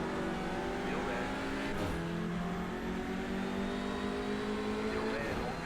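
A Hyundai TCR touring race car in the iRacing sim at Sonoma, its engine droning steadily at high revs with a few small pitch shifts as it powers past, loud and continuous, with faint talk mixed in.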